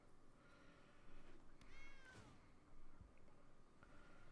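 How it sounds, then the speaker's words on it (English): A cat meows with a low, deep voice, a drawn-out call near the middle followed by a shorter one, heard over a quiet room with faint background noise. "That's a weird voice for a cat"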